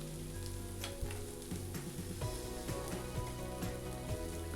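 Onions frying in a pan with half a tablespoon of turmeric stirred in, a steady close sizzle with scattered crackles and occasional scraping clinks, no voices.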